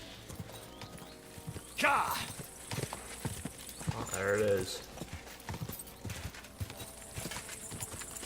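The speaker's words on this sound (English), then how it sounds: "Smooth horse." Horse hooves clip-clopping in the Kingdom Come Deliverance video game, a steady close trot with a whinny partway through, and someone talking over it.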